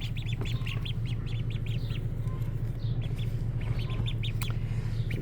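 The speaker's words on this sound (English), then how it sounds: "show you how our baby ducks are doing" Baby ducks on a homestead peep in rapid, high repeated bursts, close and fairly loud, over a steady low hum in the background.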